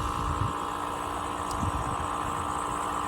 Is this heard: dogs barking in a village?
no